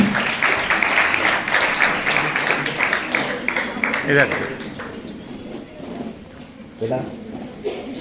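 Students and guests at a women's college ceremony applaud newly formed student council officers, with sustained crowd clapping for several seconds that fades as a voice takes over and keeps speaking.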